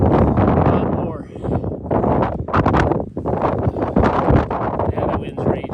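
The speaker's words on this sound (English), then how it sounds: "Now the wind's raging." Strong hurricane wind buffets the microphone outdoors in loud, continuous gusty roars that briefly drop and surge again, with wind noise dominating the scene.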